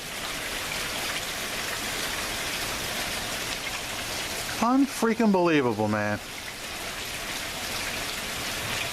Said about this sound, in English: The rain continues to fall, no let up in sight.